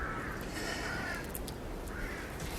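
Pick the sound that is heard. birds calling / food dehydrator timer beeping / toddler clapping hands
birds calling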